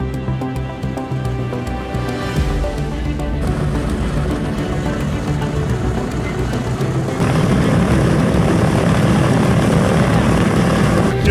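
A Boeing B-29 Superfortress bomber taxiing at low speed under its own power, steady loud droning of its radial piston engines and propellers, swelling louder partway through, with no talk.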